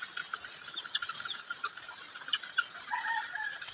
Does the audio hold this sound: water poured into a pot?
no